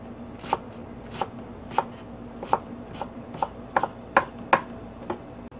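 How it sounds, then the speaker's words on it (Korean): A knife chops a handful of chili peppers into one-centimeter pieces on a cutting board, about a dozen crisp, close taps at a slow, slightly irregular pace over a quiet kitchen background. "고추 한 줌을 1cm 크기로 썰어 줄게요"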